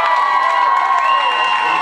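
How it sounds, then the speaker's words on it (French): Applause and cheering from a crowd at a customary wedding ceremony, a dense wash of clapping and shouting voices that keeps a steady, loud level for under two seconds. "Applaudissements bien fort"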